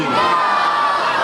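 A large crowd roars a loud, sustained collective shout in unison answering a takbir call at a Pashto naat recitation gathering, the chant filling the whole brief moment.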